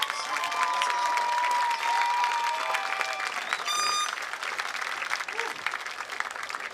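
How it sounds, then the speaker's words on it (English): Another round of applause at the Mount Sinai class of 2024 graduation ceremony, a large crowd clapping continuously with cheers and a few whistles mixed in, loud and sustained. "Let's get one more round of applause"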